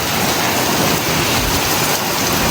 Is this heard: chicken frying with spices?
no